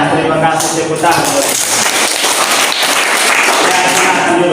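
A classroom of pupils claps together for a steady stretch of dense, continuous applause at close range, with voices mixed into the noise.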